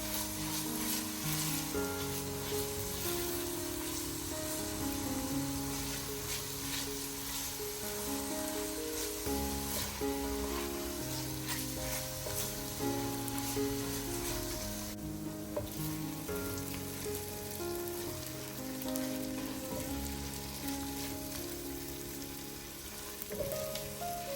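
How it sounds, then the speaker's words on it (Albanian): Vegetables sizzle and crackle steadily in a hot pan, with soft background music playing throughout. "I përzijem për pak minuta derisa perimet e kenë filluar të skuqen"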